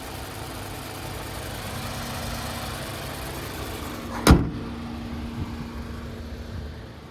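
A naturally aspirated 2.5-liter Skyactiv-G four-cylinder engine in a 2021 Mazda3 hatchback runs steadily at idle, heard up close as a constant hum. A single sharp click or thump cuts through about two-thirds of the way in.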